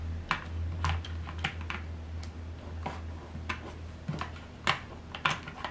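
Typing at a desk in a home office: irregular clusters of sharp key clicks, some louder strikes standing out, close and alone over a low steady hum.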